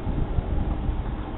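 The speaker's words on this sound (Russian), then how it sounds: "Сейчас поднялся ветер." Strong wind roars steadily against the microphone, a dense, low buffeting rumble with no other sounds.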